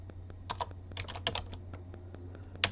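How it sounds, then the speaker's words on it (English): Keystrokes tapped out on a computer keyboard while a word is entered in design software, a handful of close, crisp clicks in short bursts over a steady low hum. "I'm going to go ahead and type Arizona"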